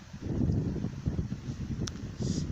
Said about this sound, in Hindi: ठंडी ठंडी हवा चल रही है बहुत तेज़, सुनाई भी दे रही होगी चाहे तो फ़ोन में